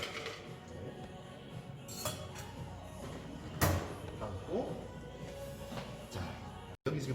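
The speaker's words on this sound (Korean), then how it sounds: "얼음을 여기 담아줍니다" Ice being scooped into a glass for a draft whisky highball in a shared kitchen, with scattered clinks and knocks, one sharp clatter midway, over steady background noise.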